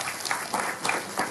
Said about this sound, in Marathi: जोरदार टाळ्या वाजून त्यांचं अभिनंदन करा.